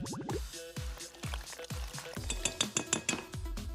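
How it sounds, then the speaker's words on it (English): Slime ingredients being stirred and mixed in a bowl, with a steady run of wet, squelchy strokes that start slow and quicken into rapid scraping and slapping toward the end, close and fairly loud with no talk. "And I'll mix in the other ingredients."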